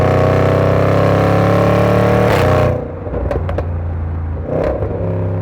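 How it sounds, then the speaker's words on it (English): A Jaguar F-Pace SVR's supercharged V8 roars loudly up close, then lifting off brings a string of sharp exhaust crackles and pops over a lingering rumble. "I'm getting crackles and pops from that exhaust."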